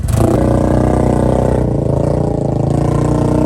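Chinese dirt bike engine revving hard through mud, loud and close, a steady buzzing drone with a rapid rattling pulse that dips slightly midway and holds, no talk.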